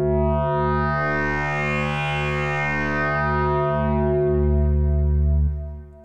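A thick, sustained granular-synthesized tone built from recordings of a cookie box and a hair dryer, with stacked harmonics, rings out washed in reverb and effects, then decays into a trailing tail at the end.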